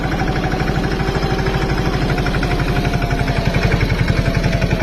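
A mini tractor uproots a groundnut crop in a field, its engine chugging loud and close with a fast, even pulsing beat that continues throughout.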